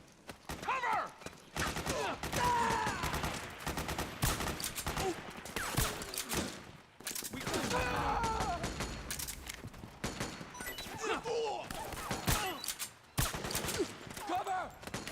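Repeated bursts of gunfire and rapid automatic fire fill a combat scene in the video game Metal Gear Solid 4: Guns of the Patriots, loud and nearly continuous with brief pauses, mixed with shouted voices and battle noise.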